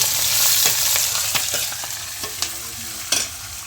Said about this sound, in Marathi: कढीपत्ता आणि याच्यात आता कांदे आणि मिरची टाकून घेतलं